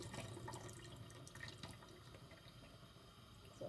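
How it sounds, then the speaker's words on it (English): Water is poured out of an opened tin of sweet corn into a sink, a faint close trickle and splash lasting a few seconds with no talk. "I'm going to pour out the water"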